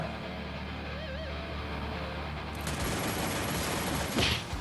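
Gunfire in the mobile shooter Free Fire: after a quieter stretch with warbling game tones, a loud, dense burst of rapid shots breaks out and continues to the end.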